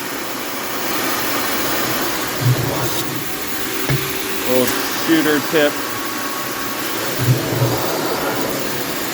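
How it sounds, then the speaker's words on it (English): Vacuum cleaner sucking dust off a Gottlieb Bounty Hunter pinball machine, a steady broadband whoosh running throughout with brief clunks and rattles as debris is picked up, while someone speaks briefly over it. "Vacuuming all this crap off is kind of satisfying."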